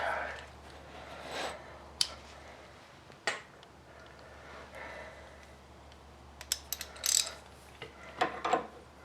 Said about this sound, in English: I think I'm gonna need a bigger ratchet